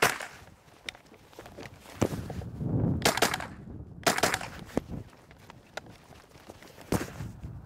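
Minirifle fired during an IPSC practical shooting stage: sharp cracks spread irregularly through the clip over background noise and movement, with a few louder shots standing out.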